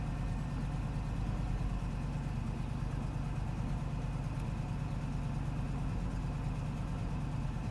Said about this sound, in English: it's idling like pretty much perfect